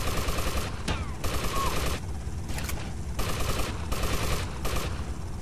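Gunfire rattles through a GTA Vice City shootout, rapid bursts of shots in several volleys with short gaps, loud and close.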